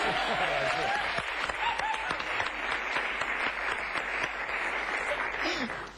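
A studio audience at a comedy sports show gives steady, sustained applause, many hands clapping evenly and moderately loud, with a voice talking over it at times and the clapping fading near the end.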